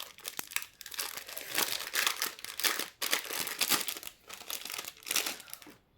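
A small tray from a Mother's Day gift box being opened, with close, repeated crinkling and rustling of packaging in bursts, moderately loud and with no talk.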